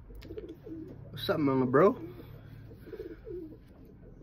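Racing pigeons, including an auctioned 2019-banded bird, coo in a loft, with one clear rising-falling call in the middle and softer coos around it, all under a man's casual speech.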